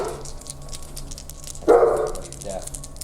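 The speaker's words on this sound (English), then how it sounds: "That's a dog." A dog barks once, loud and close, amid the chatter of a tabletop wargame session, followed by a softer second yelp, with voices murmuring throughout.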